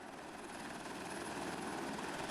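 A helicopter flies near a mountain with a steady, even engine and rotor drone that holds at a constant level, fairly faint and distant, with no voices.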